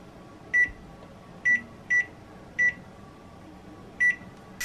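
A kitchen timer beeps five times in short, sharp, evenly pitched chirps at irregular intervals, clear and close over a quiet hum from a pressure cooker making chicken curry.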